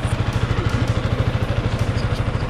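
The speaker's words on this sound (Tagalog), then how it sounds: "Yan ang motor ko." A motorcycle idles close by, its engine putting out a steady, rapid low thumping pulse that holds evenly throughout with no talking.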